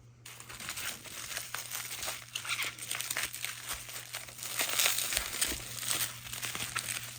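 Paper packing slips and packaging crinkled and pulled from a shipped box of graded cards, a quiet close stream of rustling and crumpling with a steady low hum beneath and no talk.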